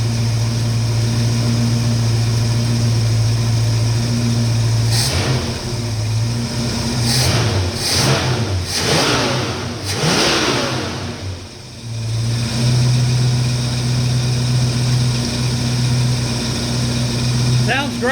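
A 1969 Mustang engine idles with a steady low hum, broken midway by a few quick throttle blips that rise and fade before the smooth idle resumes; someone talks over it nearby.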